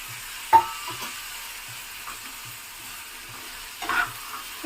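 Boiled beans being stirred into fried tomato in a pan for a potato and chickpea fry, with a quiet steady sizzle and two sharp spoon scrapes against the pan, no voices.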